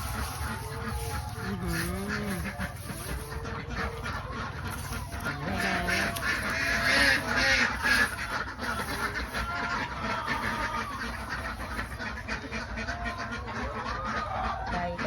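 Khaki Campbell and other egg-laying ducks on a Thai farm give repeated nasal quacks over a steady background hum, with the calls scattered and overlapping at moderate distance.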